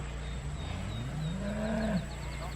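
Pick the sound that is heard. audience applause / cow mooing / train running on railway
cow mooing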